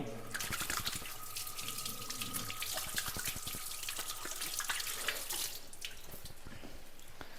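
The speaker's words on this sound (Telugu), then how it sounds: "ఒకసారి చేయి కడుక్కొని" Tap water runs into a kitchen sink as hands are washed while cooking, a steady close splashing stream with small splattery bursts, softer toward the end.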